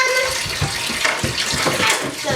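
Tap water runs steadily into a sink during dishwashing with soap, a continuous splashing hiss with soft clatter, and faint indistinct voices in the background.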